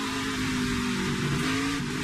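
A NASCAR Xfinity race car on track at Watkins Glen during qualifying drones steadily with a loud, sustained engine tone throughout, close and continuous, with no voices.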